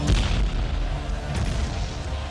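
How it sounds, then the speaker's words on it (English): Cannon artillery fire from a Venetian bombardment of the Parthenon in Athens, a continuous rumbling barrage of deep booms, loud and dense with no talking. "On the 24th of September, the Venetian general, Francisco Morosini, turned his cannon onto the Parthenon."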